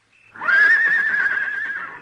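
A single loud horse whinny rises and holds for nearly two seconds, clear and fairly close.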